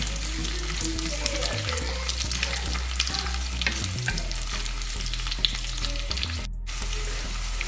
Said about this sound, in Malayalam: അതിലേക്ക് നമുക്ക് കറിവേപ്പില, സവാള ഇട്ട് കൊടുക്കാം. അതൊന്ന് നമുക്ക് നല്ലവണ്ണം വഴറ്റിയെടുക്കാം.